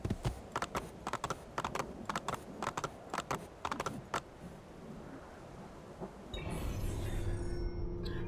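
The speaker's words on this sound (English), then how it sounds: "Assassin's Creed has, like, the best horse riding mechanics out of any game." Horse hooves clop in a quick, steady rhythm while riding in the video game Assassin's Creed II, loud and close, then stop and give way to a steady rushing ambience.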